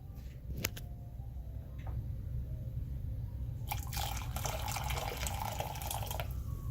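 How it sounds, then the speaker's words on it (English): Boiling water poured into a Zote soap mixture, a steady liquid splash and trickle with scattered drips that grows fuller and louder toward the end, alone with no talk. "Pour another cup of boiling water."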